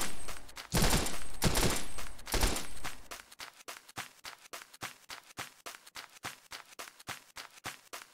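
Gunfire in the video game XERA: Survival: a few dense bursts of automatic fire, then a rapid, regular string of sharp single shots, loud and close, with no talk.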